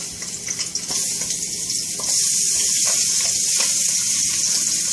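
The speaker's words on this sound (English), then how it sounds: "We're going to start frying those." Sausage sizzling and crackling in hot oil, a steady frying hiss that grows louder partway through, with occasional pops and stirring.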